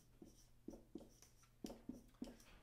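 A pen writes handpan notation on paper, with about six short scratchy strokes arriving in irregular bursts over a faint steady hum, close and quiet.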